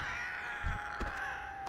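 A bird in World of Warcraft Classic caws a few times, harsh crow-like calls rising over a steady hum of background game sound, fairly near and clear, with no voices.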